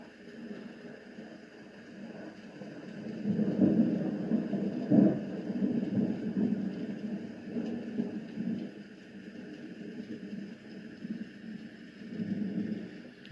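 Thunderstorm setting on a white noise machine: low rolling thunder rumbles swell and fade over a steady hiss of rain, moderately loud and continuous with no voices.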